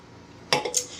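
Beer glasses clink together in a toast, three or four bright close chimes in quick succession after a brief quiet moment.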